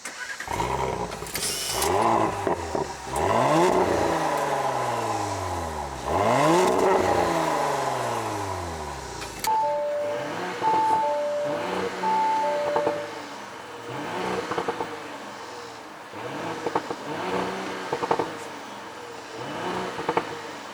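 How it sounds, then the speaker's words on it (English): A 2018 Audi SQ5 engine revs hard through several upshifts, each gear change marked by a sharp crackling burble from the exhaust, followed by steadier cruising engine drone. "Yes, the car farts. I love that farting noise."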